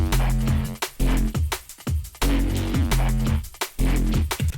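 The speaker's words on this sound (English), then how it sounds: "So this was the original bass." A synth bass sound made in Vital for drum and bass pounds out loud, dense, distorted notes in a driving rhythmic pattern with brief gaps, filling the mix alone without talk.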